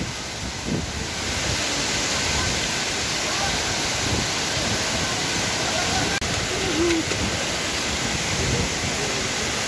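Hulugan Falls pours a steady, broad roar of falling water, loud and constant throughout with a bit of wind buffeting the microphone.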